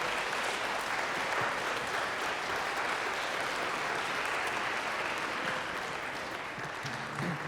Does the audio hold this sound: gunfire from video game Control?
no